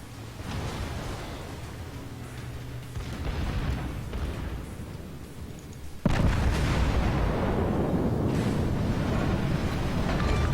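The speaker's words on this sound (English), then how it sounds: "As you can see, enemy cruiser destroyed. Very potent guns." Battleship guns firing in World of Warships: heavy, rumbling booms roll continuously, with a sharp, louder salvo midway that leaves a dense roaring wash of gunfire and explosions. No voices are heard.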